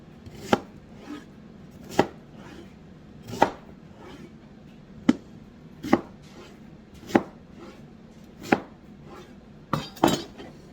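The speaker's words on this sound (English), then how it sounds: "flip the side you peeled it down, and then you can chop on a nice clean surface" An onion is chopped with a knife on a thin cutting board, with crisp individual knife strikes landing at a slow, uneven pace, close and clear with no talking.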